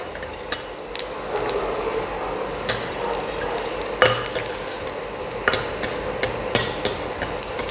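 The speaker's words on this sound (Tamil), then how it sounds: "இஞ்சி நல்லா ஒரு வாசனை வர வரைக்கும் வறுத்துருங்க" Ginger frying in sesame oil for a chutney, a continuous close sizzle broken by repeated sharp scrapes and knocks of a utensil stirring against the pan at an irregular pace.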